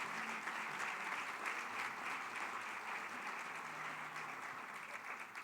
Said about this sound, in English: let's give another round of applause to an incredible